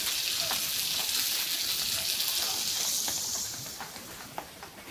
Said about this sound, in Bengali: মাছটা সেদ্ধ হওয়ার জন্য এখন পানি দিয়ে দিই।